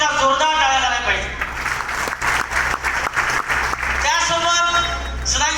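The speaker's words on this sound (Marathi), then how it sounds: "एकदा जोरदार टाळ्या झाल्या पाहिजे." Applause rises from the audience at a business recognition event, a steady wash of clapping that swells in the middle while a voice and background music continue over it.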